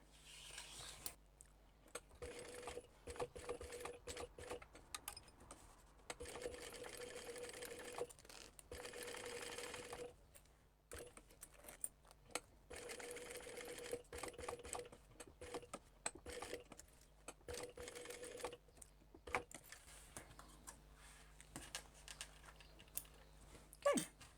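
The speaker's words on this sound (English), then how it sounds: "Now at this point, we're going to top stitch around this edge here." A sewing machine top stitches around the edge of a crossbody bag in bursts of fast, steady whirring, each several seconds long, broken by short pauses, close up and with no talking.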